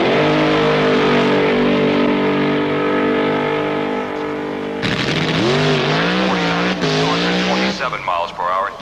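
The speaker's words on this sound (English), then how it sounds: "That supercharged Chrysler has the same crisp sound of horsepower" A supercharged Chrysler drag racer engine at a 1971 drag race, a loud, close, continuous roar that shifts pitch and surges with rising revs at launch, with a commentator talking over it.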